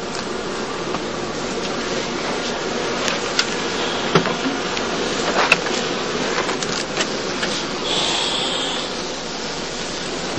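Honey bees at a heathland skep apiary during the heather blossom fill the air with a dense, steady buzz from many insects close by, continuous throughout with a few brief louder passes.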